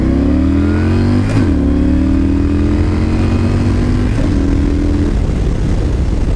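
A Yamaha Stryker motorcycle accelerates hard in a 0-60 mph run, its engine note climbing in pitch, dropping briefly at a gear change, then rising again; a loud, close, continuous roar with no talk.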